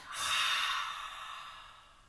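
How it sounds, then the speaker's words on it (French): A long, breathy exhale through an open mouth during a yoga-style breathing exercise: a single soft, airy rush that swells quickly, then slowly fades over about two seconds, close and alone. "Soufflez bouche ouverte."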